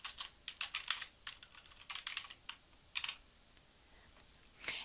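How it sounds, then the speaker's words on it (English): Text typed on a computer keyboard, with bursts of quick, close keystrokes and short pauses between words, ending in a final cluster of taps. "Go ahead and type in Hawaii, the Aloha State."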